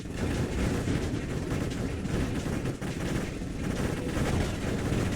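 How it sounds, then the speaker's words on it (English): Short controlled bursts of video-game gunfire keep up a steady, dense clatter of shots for several seconds at moderate loudness, with no voices. "I'm just tap firing"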